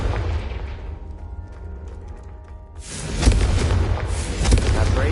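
A Confringo spell goes off in the Hogwarts video game, a loud broadband blast bursting in at about three seconds with a heavy rumbling tail and a second swell, after a quieter low murmur.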